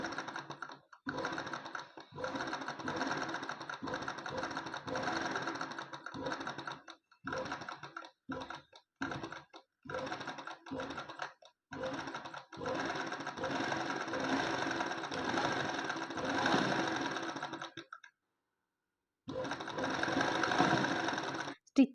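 An embroidery machine sews straight stitches in fast, steady rattling bursts, pausing briefly and often between runs, close and clear with no talking.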